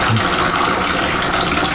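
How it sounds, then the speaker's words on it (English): Hot water gushes and drains steadily out of a mash during batch sparging for a roasted pumpkin bourbon brew, a continuous close rushing pour with no talk. "So I'm gonna drain this out."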